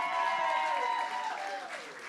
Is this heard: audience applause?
yes